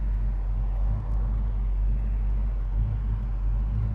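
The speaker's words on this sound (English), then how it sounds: "Notice again, we're at idle here." A 1970 Chevrolet Chevelle SS idles steadily, a low, even engine rumble with a slight rhythmic lope, close and alone without speech.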